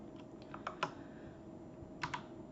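A computer keyboard tapped in short, sparse bursts, a few soft key clicks then a pause before two more, faint and close in a quiet room.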